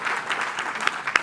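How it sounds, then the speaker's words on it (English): An audience at a trade talk on Nigerian and South African trade claps briefly, a short patter of scattered hand claps with a couple of sharper claps near the end. "You can clap."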